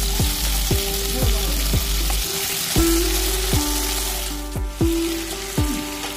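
Green banana and potato pieces frying in oil seasoned with panch phoron for Bengali sukto, a constant loud sizzle close up, punctuated by repeated sharp spatula taps against the pan in a steady rhythm.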